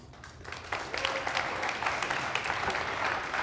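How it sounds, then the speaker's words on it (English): An audience at an energy-day panel discussion applauds with a steady, fairly quiet patter of many hands clapping, continuous and evenly spread throughout. "give them a huge hand of applause"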